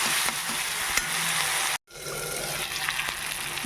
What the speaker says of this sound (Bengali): আর পেঁয়াজটা যতক্ষণ না গলছে এটা আমি একটু ঢাকা দিয়ে ভাজব